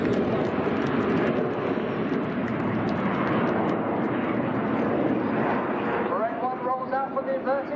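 Red Arrows RAF aerobatic team jets at an air display, a loud sustained roar of jet engines overhead with wind buffeting, a commentator's voice over the top and a rising whine near the end.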